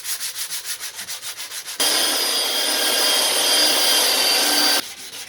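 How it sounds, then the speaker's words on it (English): Hand sanding the edges of a guitar body made from scrap wood: a close, rhythmic back-and-forth rasp, then a long continuous abrasive hiss before it returns to short strokes. "After many hours of sanding, we've got it basically done."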